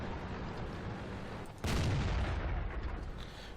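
An M10 Wolverine tank gun fires in World of Tanks: one sudden sharp report cuts through steady engine rumble, then rolls into a booming low-frequency tail lasting about two seconds.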